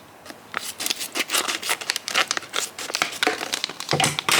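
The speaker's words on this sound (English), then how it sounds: "I need a pair of scissors." Scissors cutting open the packaging of a stationery advent calendar, a continuous run of close snipping and crinkling plastic and paper rustles with rhythmic cuts, no voices.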